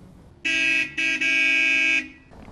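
A car horn honks loudly and close, one short toot followed by a longer sustained blast, with no talk.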